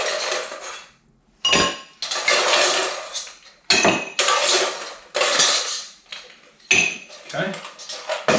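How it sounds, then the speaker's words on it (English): Ice cubes dropped and clattering into mixing glasses for a Sazerac cocktail, a series of bright, sharp rattling bursts close by, in irregular handfuls with brief pauses between. "we're going to add, of course, the ice to our mixing glasses"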